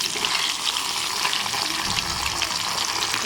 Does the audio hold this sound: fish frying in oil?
yes